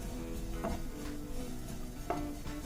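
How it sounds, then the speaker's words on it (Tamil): Spices dry-roasting for vatha kuzhambu are stirred in a pan, giving soft scraping and light rustling with a couple of clearer scrapes of the spatula, quiet and close. "ஸோ இந்த அளவுக்கு நல்லா வறுத்துக்கலாம்."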